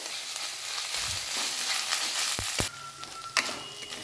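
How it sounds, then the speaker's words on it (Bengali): Ginger garlic paste sizzles steadily in a hot pan, with a few sharp clicks and scrapes of stirring against the pan. "এক চামচ আদা রসুন বাটা দিয়ে দিচ্ছি। আদা রসুনটাও খুব ভালো করে ভেজে নিতে হবে।"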